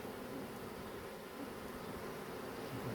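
A dense swarm of bees hums continuously and evenly around an opened hive, a close, steady buzz filling the whole stretch without any voices.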